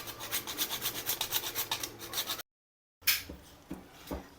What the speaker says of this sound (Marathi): हे जायफळ आहे, मी हेही थोडंसं ह्याच्यामध्ये खिसून घालते.